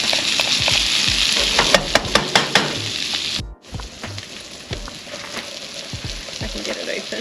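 Garlic hits hot oil in a pan at an outdoor cooking spot on Mt Sugarloaf, setting off a loud, steady sizzle with a few sharp clinks of stirring and brief speech.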